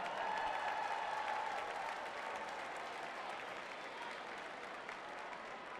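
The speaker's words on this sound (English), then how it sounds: "A round of applause for these cute dogs," Sustained crowd applause for racing corgis at a dog race, a steady wash of clapping heard from some distance, moderately quiet and continuous throughout.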